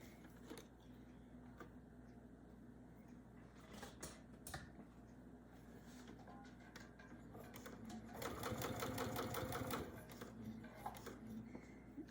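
Quiet sewing machine stitching quilt binding at a 1/4 inch seam allowance, with short bursts of stitching and small handling clicks, then a longer, faster run of steady rhythmic stitching near the end.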